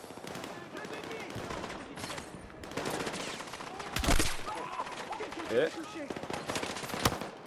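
Heavy gunfire in the video game Battlefield 6, dense rapid bursts of automatic fire rattling throughout with one sharp louder blast near the middle and another near the end, a player speaking briefly over it.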